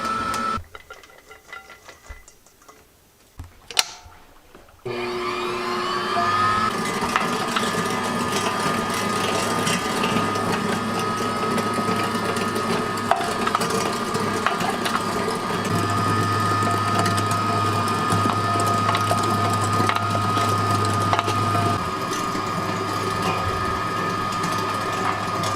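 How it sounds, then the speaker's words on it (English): An electric meat grinder starts up after a few quiet seconds and runs steadily, pushing moose burger meat through its small plate with a continuous mechanical whir and hum. "We're gonna be grinding it through the small plate on the grinder."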